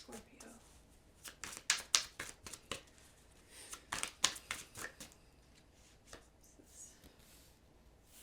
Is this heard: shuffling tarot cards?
yes